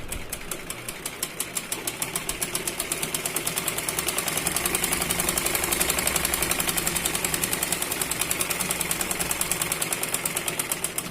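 A sewing machine stitching a blouse seam runs in a fast, even mechanical rhythm of needle strokes, steady and close, with a slight swell in the middle and no voices.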